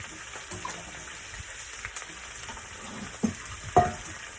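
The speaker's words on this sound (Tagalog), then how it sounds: "haluin lang din natin hanggang sa maluto" Seafood pansit canton with bihon noodles is stir-fried in a pan under a faint, steady sizzle, broken by a few soft stirring scrapes and a sharper clack near the end.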